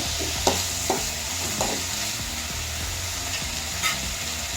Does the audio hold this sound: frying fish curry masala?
yes